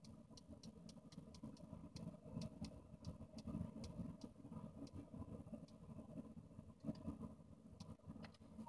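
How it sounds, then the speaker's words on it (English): A car engine idles with the air conditioning running, a faint low steady rumble and hum with light intermittent ticks, heard from inside the car with no talking. "I'm in my car too, so if you hear my car running,"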